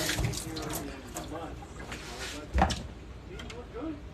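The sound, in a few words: water running from tap while washing fruit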